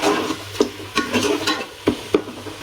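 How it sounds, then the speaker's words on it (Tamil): Masala stirred in hot oil for a vegetarian Kabuli pulao, with steady sizzling frying and repeated scraping strokes of a spoon against the pan, close and fairly loud. "நல்லா கலக்கி விடணும். மசாலா நல்லா மிக்ஸ் ஆகணும். எண்ணெயிலே ஒரு 2 நிமிஷம் இருக்கட்டும்."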